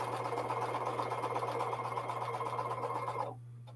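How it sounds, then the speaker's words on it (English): A sewing machine runs steadily for about three seconds while stitching quilt blocks, close and even, with a low mains hum beneath it, then stops abruptly. "I should probably sew these middle blues as well as the long ones"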